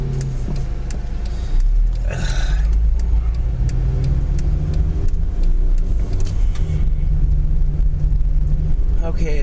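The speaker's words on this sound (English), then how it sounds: "All these fucking cars." Traffic on an interstate leaving Metropolis, Illinois, heard from inside a moving car: a steady, loud road rumble with wind noise throughout and passing vehicles.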